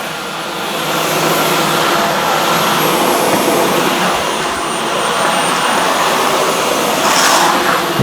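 Dyson V12 and V15 cordless vacuums run together with a loud, steady, close-up roar of airflow and a thin high whine that slightly wavers in pitch.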